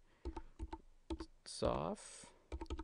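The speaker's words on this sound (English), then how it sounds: "you got to start typing in, obviously, Microsoft" Someone types on a computer keyboard in quick clusters of close, crisp key clicks, broken in the middle by a brief burst of voice before the typing resumes.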